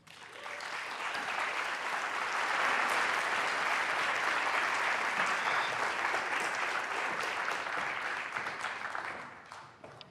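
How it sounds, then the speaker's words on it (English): An audience at a talk event on the global hunger crisis applauds to welcome a speaker to the stage, with dense sustained clapping that swells, holds for several seconds and then tapers off, and no talking over it. "a round of applause in welcoming the Chief Executive Officer of Cooperation Canada, Kate Higgins."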